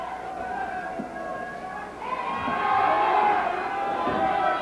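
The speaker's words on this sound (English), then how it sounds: "Here's some war hoops from the crowd every so often." War whoops rise from a 1985 Portland Wrestling arena crowd. Wavering shouts swell and fade over a constant murmur of the audience, moderately loud and somewhat distant.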